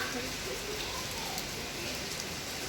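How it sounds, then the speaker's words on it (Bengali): Steady rain falls in a dense, even hiss with no letup, close and moderately loud, like rain pattering on a surface. "একভাবে বৃষ্টি হয়ে যাচ্ছে"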